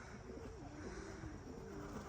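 Young racing pigeons back at their home loft give soft, low cooing calls that repeat and overlap across a steady outdoor background hiss.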